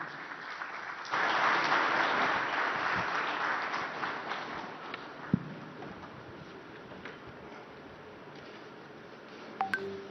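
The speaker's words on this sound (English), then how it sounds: "this deserves a louder round of applause from everyone here" An audience claps at the opening ceremony of the 25th ICID Congress in Visakhapatnam, a dense crowd applause that swells loudly then gradually thins and fades, with a few scattered beeps near the end.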